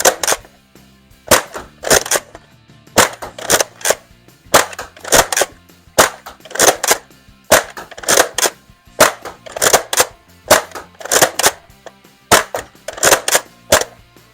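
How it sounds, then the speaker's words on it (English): An X-Shot Insanity Berserko blaster fires waffle head foam darts in repeated close, sharp pops, often in quick pairs, steady across the stretch with no talk. "we'll just fire some darts at waffle head darts."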